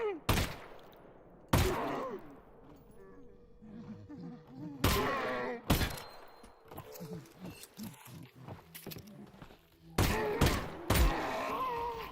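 Gunfire while shooting monsters in a Half-Life: Alyx mod video game, several loud sharp shots spaced irregularly, some in quick pairs, mixed with low creature growls and a voice talking between them.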